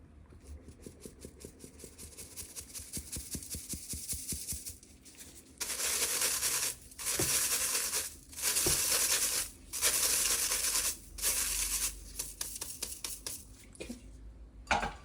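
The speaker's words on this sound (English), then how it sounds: "We can sift." Flour and baking powder sifted for a soft, fluffy bread dough, heard as loud bursts of rhythmic shaking and scraping in several long pulses, with lighter tapping beforehand and no talk.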